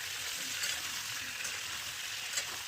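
Potatoes rubbed with salt and turmeric fry in hot oil in a wok, giving a steady, dense sizzle that holds evenly throughout with faint stirring scrapes.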